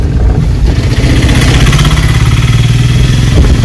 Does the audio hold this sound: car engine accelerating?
yes